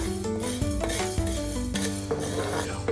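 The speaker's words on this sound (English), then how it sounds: "Stir continuously on medium flame for about a minute until the spices are fragrant." Fennel seeds and whole spices dry roast in a pan over a medium flame, with loud, continuous scraping and rattling as they are stirred, accompanied by background music and no speech.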